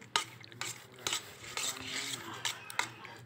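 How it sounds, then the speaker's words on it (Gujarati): Curd being stirred in a bowl for a barbecue marinade at a Rajkot restaurant, with repeated clinks and scrapes of a spoon against the bowl, close and fairly quiet. "આ દહીં હલાવી રહ્યા છીએ"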